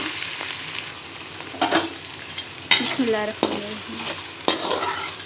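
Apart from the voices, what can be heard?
chopped onion frying in hot oil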